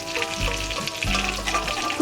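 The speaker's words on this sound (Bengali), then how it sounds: "এই দেখো এইভাবে আমি হালকা করে একটু ভেজে নিয়েছি চিংড়ি মাছগুলো।" Prawns frying in oil in a wok, a close, continuous bubbling sizzle with a few soft stirring shifts.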